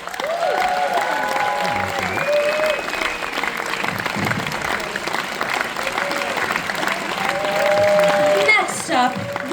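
Sustained audience applause at a film event, a dense steady wash of clapping with a few faint whoops and voices mixed in, loud and continuous throughout.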